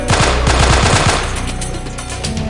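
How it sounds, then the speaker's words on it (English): Rapid automatic gunfire from the video game Delta Force: Black Hawk Down, set in an urban street battle, rattles loudly in close bursts and then fades into a rougher, continuing din. "We're taking fire from the buildings across the street!"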